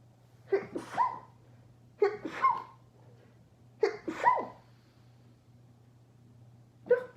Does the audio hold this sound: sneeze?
yes